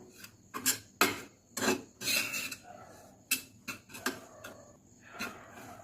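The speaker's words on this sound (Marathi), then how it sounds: "छान भाजून घ्यायचा रवा" Semolina is stirred and dry-roasted in a pan over low heat for karanji, giving close, gritty scraping and rasping strokes in uneven bursts, with no talk.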